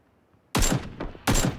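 Two loud, close gunshot bursts from a PUBG match, arriving about three quarters of a second apart after a near-silent start.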